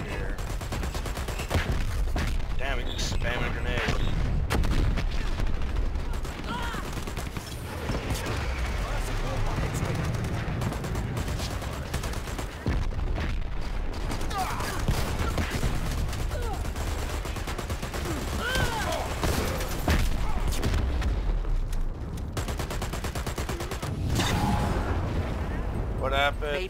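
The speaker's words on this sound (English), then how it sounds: "Damn, he's just spamming grenades." Dense gunfire and grenade blasts from a Dirty Bomb multiplayer match, a constant loud barrage of shots and booms running throughout with bursts of talk over it.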